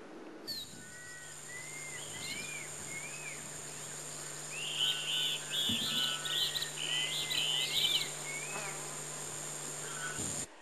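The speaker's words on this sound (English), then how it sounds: "There was nothing, only the sound of the insects and other fauna." Insects buzz and trill amid jungle vegetation at the Jonestown site in Guyana, a steady high drone with chirping bird-like calls rising near the middle, fairly close and without any voices.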